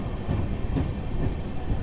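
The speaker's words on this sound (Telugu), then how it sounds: "సో మళ్ళీ అయితే మన ట్రైన్ అయితే బయలుదేరిపోయింది." A passenger train pulls out of Tadepalligudem station with a low, continuous rumble and soft rhythmic wheel clacks heard from on board.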